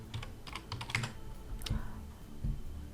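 A computer keyboard clicks away in quick irregular bursts of keystrokes, close and crisp, while someone types a hostel search into Google.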